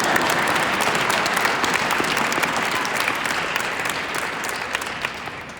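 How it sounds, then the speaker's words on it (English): Sustained applause from a crowd at a proclamation event honoring hockey player Patrick Marleau: dense, steady clapping that fills the whole stretch, easing slightly toward the end, with no talk on top. "Come on, bigger applause for that."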